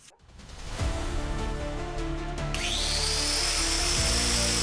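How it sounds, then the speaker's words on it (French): An angle grinder spins up in a small Paris flat and whines loudly and steadily, its pitch rising as it reaches full speed, with a harsh cutting roar close by. "C'est la première fois que j'utilise une meuleuse"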